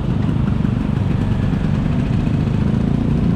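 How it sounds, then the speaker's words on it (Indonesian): An old classic Vespa scooter engine runs with a loud, steady, close-up drone and a low chugging rumble on a street ride in Bali. The sound is unbroken throughout, with no voices. "Vespa itu mesin tua tenaga muda."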